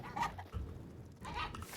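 Chickens kept for eggs in a Hytale base, clucking softly in short, quiet bursts with faint background ambience.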